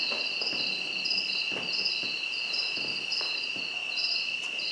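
Cicadas buzz in a steady, pulsing outdoor chorus, a loud high-pitched trill that rises and falls rhythmically, with faint soft thumps underneath and no speech.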